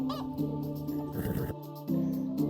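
Chickens and roosters in the medieval farming game Medieval Dynasty cluck and honk in a busy, close barnyard chorus, with sustained calls overlapping and a brief pause near the middle.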